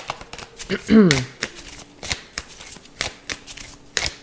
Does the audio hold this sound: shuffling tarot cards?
yes